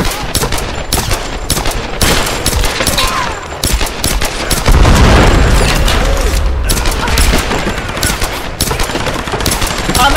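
Loud gunfire and explosions from Tomb Raider (2013), rapid volleys of shots with heavy booms amid magma, continuous and intense with a voice heard faintly underneath.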